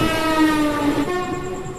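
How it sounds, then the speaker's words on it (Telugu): A passenger train rolls along, heard from aboard, with a constant rumble and a sustained horn blast sounding over it. "లారీ మనతో పోటీ పడుతుంది ట్రైన్తో."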